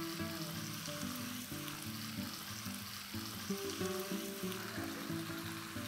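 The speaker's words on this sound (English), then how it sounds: "Let's sauté this on low flame for 5 to 7 minutes." Goan vegetable caldine paste sautés in a pan on a low flame with a steady, close sizzle and faint crackling throughout, with no voices.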